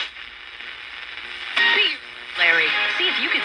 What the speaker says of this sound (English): it sounds more like a normal transistor radio now.